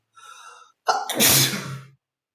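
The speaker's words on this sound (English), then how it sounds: "I'm gonna sneeze again." A man gives a single loud, close sneeze: a soft breathy intake, a short pause, then a sharp explosive burst that fades quickly.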